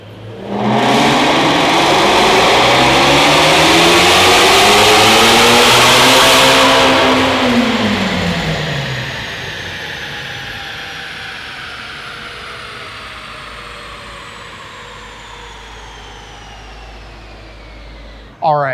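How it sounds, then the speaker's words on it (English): Supercharged 2019 Ford GT350 on dyno rollers, a loud rising rev with supercharger whine climbing through the gears to a high wail, then winding down in a long falling whine and fading rumble. "Naturally, we gotta throw this thing on the rollers and see exactly how much it puts to the wheels."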